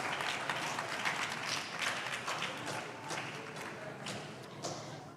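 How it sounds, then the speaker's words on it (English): A school audience at a junior science and maths quiz quarter-final applauds the contestants with sustained, fairly quiet clapping and scattered sharper claps throughout. "Let's give the contestants a round of applause once again."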